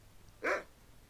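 A dog named Grip in a video game lets out a single short, sharp bark, close and clear against a quiet background.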